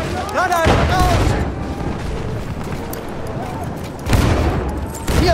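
Grenades explode amid gunfire in a World War I battle game at Amiens, with heavy booming blasts and rattling shots. Louder impacts come near the start and around four seconds in, and shouted voices mix through the din.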